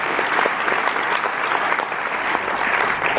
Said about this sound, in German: vielen, vielen, vielen Dank und mehr Applaus